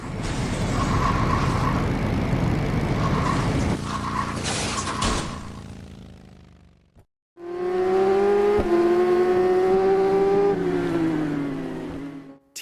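A motorcycle racing video game produces a loud, continuous roar that drops out briefly around the middle. It then returns as a close, whining engine note that climbs steadily in pitch, as if the bike is accelerating hard.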